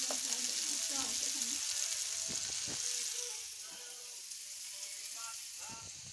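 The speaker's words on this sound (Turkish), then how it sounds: "Bir taraftan da köftelerimizi kızartmaya başladık." Meatballs sizzle and crackle steadily in a hot pan, with faint scraping and a few soft voices in the background.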